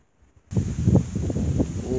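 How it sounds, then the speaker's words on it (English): Wind rustles plant leaves on a breezy rural day in Jamaica, starting abruptly after a near-silent moment and continuing as a close, fluttering brush of leaves with soft gusts. "look at the leaves connecting to the wind"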